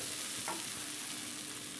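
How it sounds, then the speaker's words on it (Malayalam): Tomatoes sauté in a pan for an egg curry, giving off a steady close sizzle and frying hiss with a brief stirring scrape partway through. "ഈ തക്കാളി എല്ലാം ഇവിടെ നല്ലതായിട്ട് വഴന്നിട്ടുണ്ട്."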